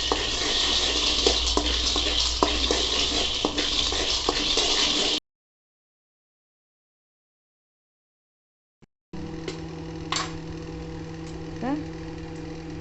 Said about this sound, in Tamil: கடலையை இது மாதிரி வறுத்து எடுத்துக்கலாம்